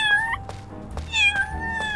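Two short cartoonish cat meows from the video game Little Kitty Big City, clear and close, separated by a brief pause, with no talking over them.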